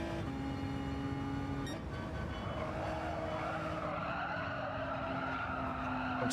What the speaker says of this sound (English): Tyres complaining all of the time through this corner.